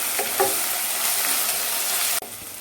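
Mutton pulao ingredients with ginger garlic paste, green chillies, coriander and mint sizzle and fry in a pan, a close, steady crackle with a few stirring scrapes, cut by a sharp knock near the end.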